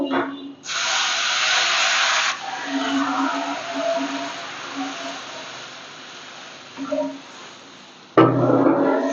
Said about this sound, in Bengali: এবার আমি জল ঢেলে দেবো